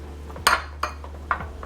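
A spoon clinks against a bowl while pink cupcake icing is stirred, three sharp metallic taps spaced irregularly over a quiet background hum, close by and without speech.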